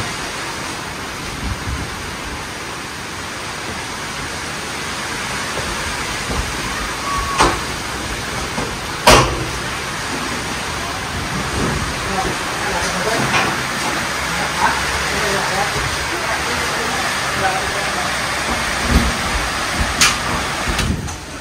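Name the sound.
heavy rain and strong wind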